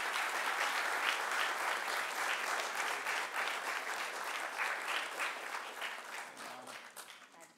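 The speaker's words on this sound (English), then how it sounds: "Yes, give them a round of applause." A room full of people gives a sustained round of applause at a proclamation presentation, dense and even clapping that stays steady, then gradually thins and fades near the end, heard at a distance and fairly quiet.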